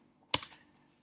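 A burst of computer keyboard typing while entering a web address to log into a site dashboard: a quick cluster of sharp key clicks, loud and close, then quiet.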